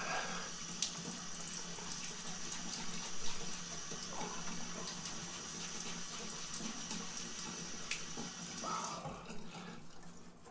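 A bathroom tap runs in a steady, continuous hiss of water filling a sink for a face-mask rinse. It sounds moderately near, fairly quiet, and carries no talking.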